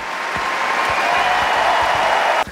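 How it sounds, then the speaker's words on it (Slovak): Applause sound effect, dense clapping of a crowd at a steady loud level for a couple of seconds before cutting off abruptly. "Prečo ani raz som nepočul potlesk, keď to ukážem?"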